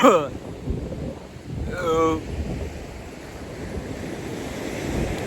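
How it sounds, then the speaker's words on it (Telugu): Ocean waves roll onto a beach near Tuni, a broad surf rush mixed with gusty wind buffeting the microphone, with a brief burst of voice or other sound partway through. "ఇది తూని పక్కన ఉన్న బీచ్"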